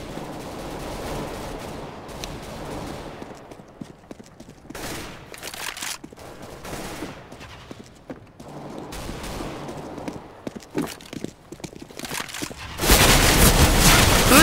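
Gunfire in Counter-Strike: Global Offensive, a team deathmatch round on the Aztec map: bursts of automatic rifle fire and single shots crackle throughout, ending in a sustained loud volley.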